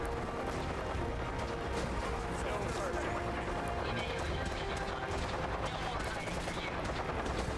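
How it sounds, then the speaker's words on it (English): Gunfire in the video game Fallout 4 forms a dense, continuous barrage of shots, with rapid automatic bursts blending into a loud, busy battle din that does not let up. "Wait, did I just shoot one of the Brotherhood of Steel?"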